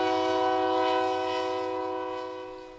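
A train horn sounds one long, steady chord near a railway that crosses a river's source, fading gradually over a few seconds with no voices.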